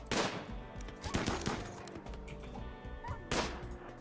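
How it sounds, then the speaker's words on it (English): Game gunfire from RimWorld colonists: several sharp bursts of shots, some close and loud, with a thick mix of battle noise running between them. "Good shooting, everybody."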